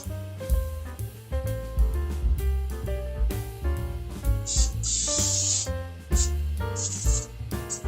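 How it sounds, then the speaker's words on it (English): Cooking spray hisses onto a pan in a home kitchen while goulash is being made, several short bursts cutting in under loud, steady background music. "I'm going to just spray our pan"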